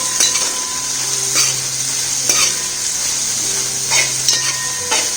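Sliced onions for a Kerala chicken roast sizzle loudly in a pan while a spatula scrapes and clinks through them at a steady pace, the hiss continuous and close throughout, no voices.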